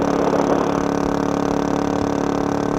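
A Suzuki DR-Z400E dual-sport motorcycle with a 434cc big bore kit and an FCR39 carburetor idles steadily, its single-cylinder engine putting out a loud, even, rapid thumping close by.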